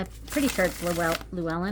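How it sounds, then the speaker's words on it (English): Thin Llewellyn-cardstock tarot cards riffle and slide in quick shuffles, a soft papery flutter close by running under a woman's speech. "Let me shuffle these cards."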